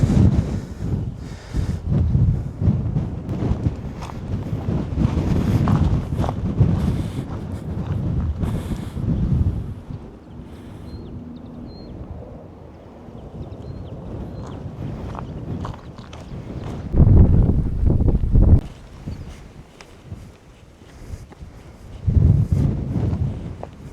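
Strong wind buffeting the microphone on the coastal cliffs near Land's End in Cornwall, loud gusty rumbles that surge, ease off in the middle, then return in heavy bursts.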